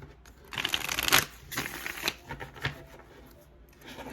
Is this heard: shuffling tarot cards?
yes